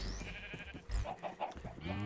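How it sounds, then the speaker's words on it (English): Chickens clucking in the Minecraft video game, with short bursts of bird calls close by over game sounds and low thuds. "Let's actually move all the chickens back into this pen"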